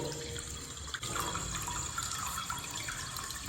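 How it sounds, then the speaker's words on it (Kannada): Tap water running steadily in a new building under construction in Bangalore, a continuous close hiss and splash with no talk. "ಸದ್ಯ ನೀರು ಬರ್ತಾ ಇರೋದು ಒಂಥರ ಖುಷಿ ವಿಷಯ ಅಂತ ಹೇಳ್ಬೋದು"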